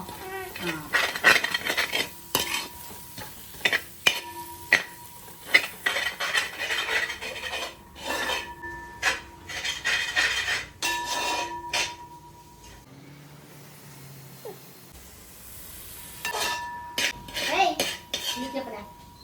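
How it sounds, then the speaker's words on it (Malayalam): A metal spoon scrapes and clinks around a pan as masala with fennel powder is stirred, in busy repeated bursts broken by a short quieter gap, with faint voices now and then. "നമുക്ക് ഇളക്കാം"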